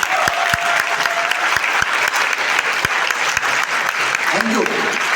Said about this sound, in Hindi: तो दोस्तों तालियों से बेहतरीन कुछ नहीं हो सकता, तो एक शानदार और जानदार तालियां होनी चाहिए